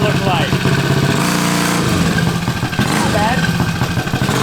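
A 40HP all-cast-engine mini bike with 70 mph gearing launches hard off the line, its engine roaring loud and close, with voices talking over it.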